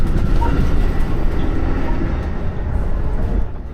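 Amtrak's new Acela high-speed train in motion, a steady loud low rumble of running gear and wheels on rail with a faint clickety-clack rhythm, heard from inside the car with no talking.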